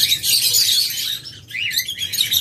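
Caged songbirds chirp in rapid, bright twittering bursts that run almost without pause, loud and close, with a brief lull midway before the calls resume.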